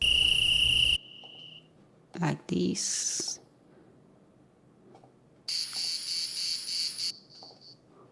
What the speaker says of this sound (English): There are also one-shot crickets, but these are bed of crickets for the night.